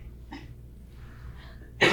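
One sharp, fairly close sneeze bursts out at the end, after soft breathy throat sounds and a quiet catch of breath in a calm room.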